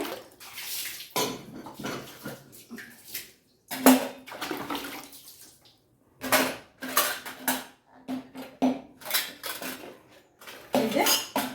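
Dishes, pots and metal utensils from a basket are washed by hand, with repeated clattering and scraping clinks in irregular bursts alongside running water, close up with quiet gaps between.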